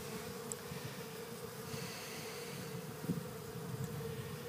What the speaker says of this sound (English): I got bees all over me, but they're not doing anything